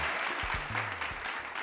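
Audience applause on a children's talent show stage, a steady, moderately faint wash of clapping with low tones underneath; the three distinct claps cannot be picked out.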